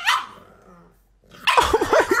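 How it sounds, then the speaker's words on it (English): A dog gives a quick bark, then after a short pause lets out a rapid burst of several loud, close yips and barks with a growly edge. "Oh my goodness, that is the cutest f***ing dog ever!"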